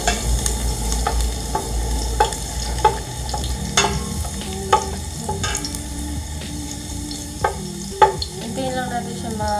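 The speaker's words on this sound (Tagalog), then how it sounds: "Lalagyan na natin yung mantika. So ilalagay na natin yung bawang." Garlic fries in cooking oil for a dinuguan, giving a steady sizzle with several sharp clinks and scrapes from stirring. No one speaks.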